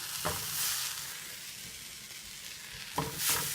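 Slices of unbuttered sandwich bread set in a frying pan over low heat for a croque monsieur, giving a soft, steady frying hiss with a couple of brief clattering contacts near the start and end.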